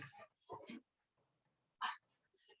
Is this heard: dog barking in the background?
yes